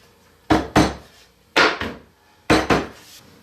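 A wooden shelf is pushed into the rebate between the dovetails of a portable workbench, giving three close pairs of sharp woody knocks and clacks, each pair a quick double snap, loud and near with no talking.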